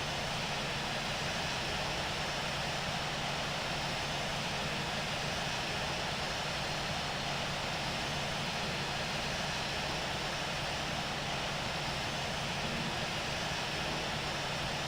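A continuous, even engine roar from an airliner taxiing to the runway in the Infinite Flight simulator, with a broad, unchanging drone and no talk.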